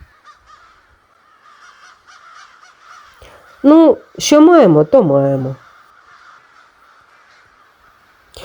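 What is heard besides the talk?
crows cawing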